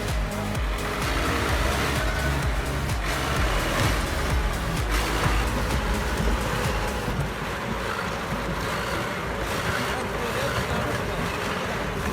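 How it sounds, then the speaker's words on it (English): A heavy machine with an engine of over 300 horsepower roars at a muddy work site, a loud continuous drone with churning, rumbling surges and wind buffeting, steady throughout without speech. "The engine of more than 300 horsepower roared."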